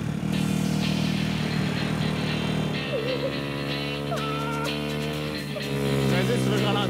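Motorcycle ridden along a beach, its steady engine drone running loud and continuous beneath overlapping voices and background music.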